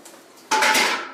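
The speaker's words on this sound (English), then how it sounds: "This is what I use to scrub this pot and to remain cute and spotless." Cleaning a cooking pot in an apartment kitchen: a sudden loud burst of scraping, clattering metal scrubbing begins midway after a quiet stretch and continues steadily, close up, with no talk.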